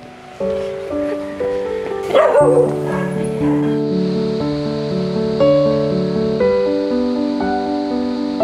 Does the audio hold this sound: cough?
no